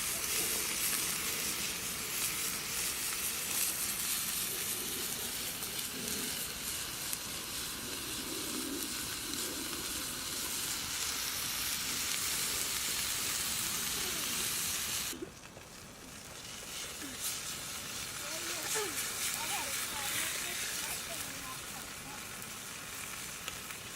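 Cheeseburger sliders sizzle on a grill over a campfire, giving a steady, fairly faint frying hiss with soft crackles that drops briefly partway through and then continues.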